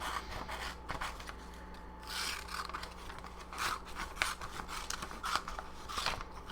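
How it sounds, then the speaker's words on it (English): Scissors snip and rasp through a glossy magazine page while a picture is cut out for a collage journal, producing a steady run of close, crisp cuts and paper rustles with no talking. "We'll go ahead and cut that out."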